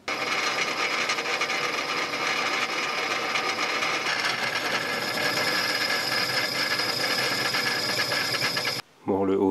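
A power drill bores holes through the steel chassis of a homemade crane trailer, a loud sustained grinding whine that runs almost unbroken before cutting off near the end with a brief different clatter.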